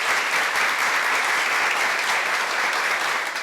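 Dense, steady clapping from an audience at an organization's anniversary celebration talk, filling the room evenly for a few seconds without voices on top.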